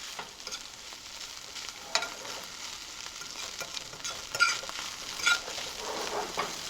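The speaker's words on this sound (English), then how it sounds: "you have to keep moving it so you don't scorch your eggs" Eggs and corned beef hash fry in a pan while being stirred, a soft steady sizzle with a few scraping knocks of the utensil, fairly quiet and close, with no talking.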